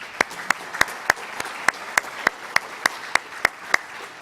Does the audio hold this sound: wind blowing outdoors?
no